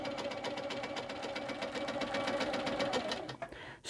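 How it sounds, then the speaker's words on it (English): Sewing machine stitching along the length of a ruler, its needle chattering in a fast even rhythm close to the microphone for several seconds before slowing and stopping. "we're going to stitch the full length of the ruler"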